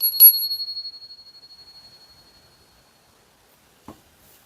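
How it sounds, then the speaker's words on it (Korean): A small bell is struck once, sharp and bright, then rings out with a long, slowly fading decay, followed by a faint tap near the end. "응원의 종소리."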